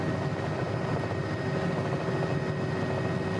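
Bell 206 L3 LongRanger helicopter flying in Microsoft Flight Simulator: a steady, loud turbine whine over continuous rotor chop, unbroken and alone throughout.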